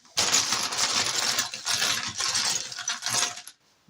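Lego bricks from the "Everyone is Awesome" set 40516 clatter and rattle in a dense, continuous shaking for about three seconds, fairly close and loud, then stop abruptly.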